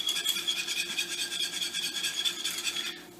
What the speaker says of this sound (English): give it a little stir again. Use a whisk to reincorporate it.